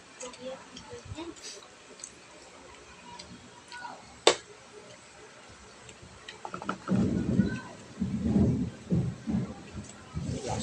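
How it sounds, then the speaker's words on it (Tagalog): Rolling thunder rumbles through a rainstorm at home during cooking, a sharp crack followed by heavy, booming rolls over steady rain, with people talking intermittently. "Lakas ng kulog ah."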